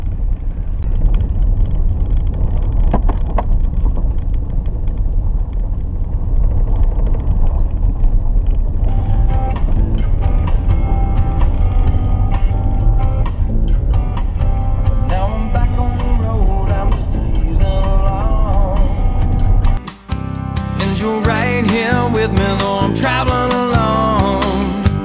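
Car driving along a mountain road, a steady loud engine and road rumble from inside the cabin, with musical tones joining partway through.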